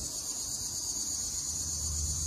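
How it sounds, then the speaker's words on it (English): Crickets chirp in a continuous high-pitched trill, steady and fairly faint, with no other sounds standing out. "Maybe it's crickets."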